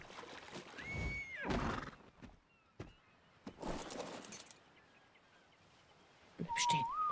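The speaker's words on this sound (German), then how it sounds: "Ich hab irgendwie ein Pferd gezähmt." A tamed horse in the survival game ARK: Survival Ascended whinnies in short, high rising calls that come and go over several seconds, fairly close, with quieter rustling and clinks between them and no speech.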